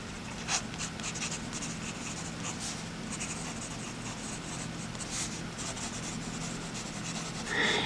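A TWSBI Swipe fountain pen with a fine nib writes on paper, giving a steady, close scratchy rubbing of continuous strokes with brief lifts, heard alone without talk.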